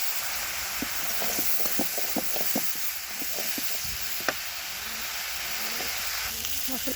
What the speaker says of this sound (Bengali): কড়াইতে সরিষার তেল দিয়েছি, হলুদ লবণ দিয়েছি, ধুয়ে রাখা চিংড়ি মাছগুলো দিয়ে দিয়েছি,